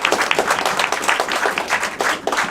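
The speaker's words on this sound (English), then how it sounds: "a round of applause for debaters" Audience applause for debaters at a political debate event, a dense, steady round of clapping from many hands throughout, fairly loud and close with no voices over it.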